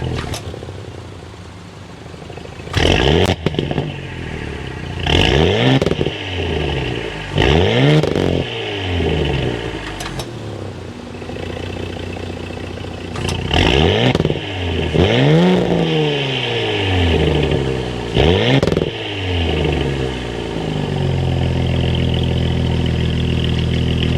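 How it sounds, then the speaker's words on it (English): A 3.0 liter V6 in an Audi S5 Sportback fires up and revs in several sharp, loud blips with a throaty exhaust note, each rising and falling quickly, then settles into a steady rumbling idle, with no talking. "start it up, so you can hear that exhaust note."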